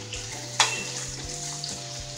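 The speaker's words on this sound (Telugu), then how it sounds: "ఉల్లిపాయలు వేగాయండి." Onions fry in a pan, a soft steady sizzle with one brief clink of a utensil, quiet and close.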